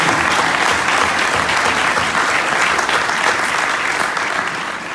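Dense, steady applause from a congregation during a fundraising appeal, loud and continuous throughout, with a slight fade near the end.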